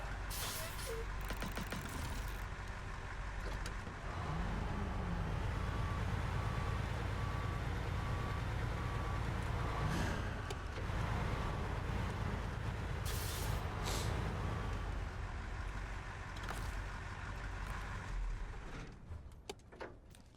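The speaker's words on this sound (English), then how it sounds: "I just realized we could hear this truck puttering away from over there." A truck in the SnowRunner driving game putters away in the distance, a steady low engine drone running throughout with hissing and beeping vehicle sounds on top and occasional talk.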